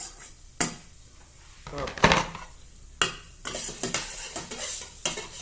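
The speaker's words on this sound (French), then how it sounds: "On va d'abord faire revenir nos épices qu'on a hachées finement, à savoir l'échalote ou l'oignon, selon ce que vous avez, et l'ail." Finely chopped shallot or onion and garlic are tossed into a hot pan, giving a sizzle broken by repeated knocks and scrapes of a utensil against the pan, close by, with one short spoken word.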